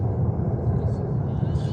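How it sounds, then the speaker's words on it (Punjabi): An airplane flies near an Indian Air Force base in Bidar, heard as a steady, low, continuous rumble in the background while someone talks over it. "ਇੱਥੇ ਤਾਂ ਜਹਾਜ਼ ਉੱਡਦਾ ਉਹਦੀ ਇੰਨੀ ਆਵਾਜ਼ ਆ ਰਹੀ ਆ"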